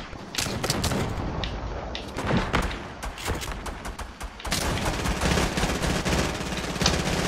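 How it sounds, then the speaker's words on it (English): Rapid SMG gunfire in Fortnite Battle Royale crackles in dense bursts and sprays, with sharp individual shots between them, fairly loud in a busy game mix. "That is SMG."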